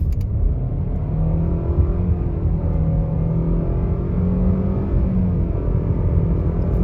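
A 2021 Nissan Rogue SV with a 4-cylinder engine and CVT accelerates, giving a steady, close interior rumble with a smoothly rising engine drone.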